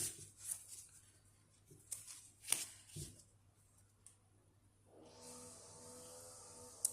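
Tarot cards are shuffled and handled in a series of soft, brief riffles and taps, close and quiet, followed by a steadier rustling stretch near the end.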